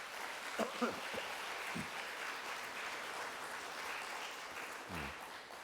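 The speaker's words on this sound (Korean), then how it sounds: "우리 박수로 환영하도록 하겠습니다" Church congregation applauding to welcome visiting family members during a Sunday service, a steady wash of clapping from many hands lasting throughout, with a few louder bursts and a voice briefly audible near the end.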